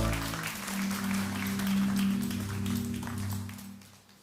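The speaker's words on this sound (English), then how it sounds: "Let's give him a round of applause" Round of applause from an audience at a live faith event, a steady wash of clapping lasting about four seconds over a low musical hum, moderately loud and fairly close.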